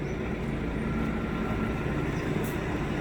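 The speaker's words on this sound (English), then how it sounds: "we've got a tractor coming in, guys, so I'm going to move over out the way for it" A big tractor with a grass cutter on the back rumbling past on a Norfolk estate, a steady low engine drone that stays loud and even throughout.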